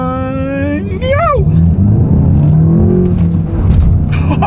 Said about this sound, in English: let's see how quickly we can get our new 2024 Golf GTI here up to speed